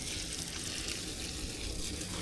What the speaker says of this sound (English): I'm just going to plug it in, and you'll see the water coming out.